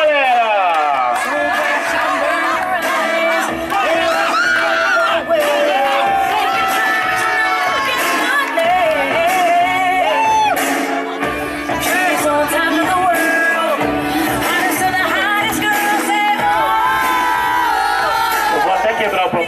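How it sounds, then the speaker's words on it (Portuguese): A large crowd at an event in Itaquera cheers, shouts and yells continuously, a loud dense roar that holds steady throughout with overlapping voices. "Uma salva de palmas,"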